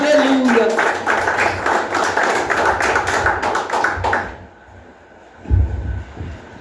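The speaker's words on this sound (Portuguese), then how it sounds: "Com as palmas bem alegres, irmãos," Congregation in a church clapping in a fast, even rhythm for about four seconds, then stopping, followed by low thumps, with a voice speaking over the applause.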